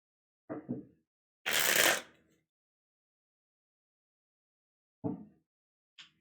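A deck of tarot cards being shuffled: two quick riffles, a longer rushing burst, then after a pause another short riffle and a faint tap. No one speaks.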